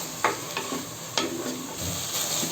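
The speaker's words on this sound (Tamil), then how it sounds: "உப்பு போட்டு தக்காளி ஒரு 2 நிமிஷம் போல் நல்லா வதங்கட்டும்." Tomatoes frying with salt in a pan, a steady sizzle broken by a few quick scraping stirs against the pan, close and moderately loud.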